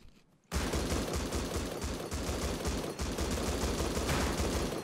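Rapid automatic gunfire in the survival game Rust hammers out in a steady, loud, evenly spaced stream after a brief quiet start, with no talking over it.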